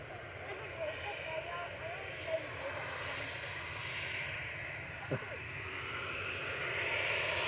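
A KLM airliner, registration PH-BCD, at Manchester Airport bound for Amsterdam, gives a steady broad engine roar that holds throughout at moderate distance, with people talking faintly beneath it.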